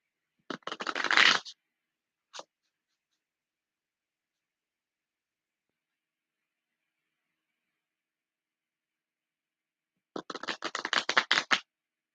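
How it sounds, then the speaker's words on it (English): Two bursts of rapid papery riffling as a deck of cards is shuffled, a single quick flick between them, and long silence in the middle. "I'm going to shuffle these 3 more times"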